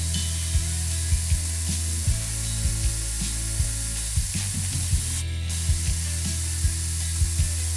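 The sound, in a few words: spray paint can spraying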